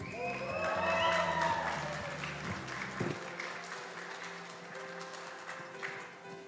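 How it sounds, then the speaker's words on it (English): Applause from an audience at a white coat ceremony for speech-language pathology graduate students, a loud burst of clapping that swells and then fades to scattered claps, with a voice speaking over it. "Let's give one more big round of applause"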